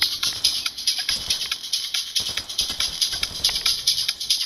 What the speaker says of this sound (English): You can hear somebody walking around over here.